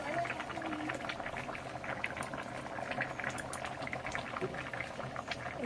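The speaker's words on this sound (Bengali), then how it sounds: "ঝোলটা ফুটে উঠেছে" Fish curry gravy boiling steadily in a pot, a continuous soft bubbling and popping that stays even and close throughout.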